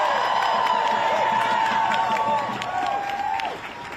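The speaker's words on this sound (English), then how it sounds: "Let's give a huge cheer for the CFPB" A protest crowd of agency employees cheers and applauds, a dense sustained roar of clapping with rising whoops and shouted calls over it, close and loud throughout before easing slightly near the end.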